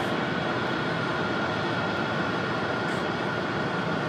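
Airplane departing from Raleigh Durham airport, a broad steady jet roar filling the air evenly and loudly without letting up.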